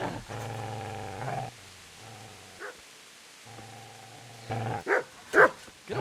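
Dog barking and growling in the medieval game Kingdom Come: Deliverance, loud harmonic snarls and growls in sustained bursts, then sharp barks near the end, close and without talk.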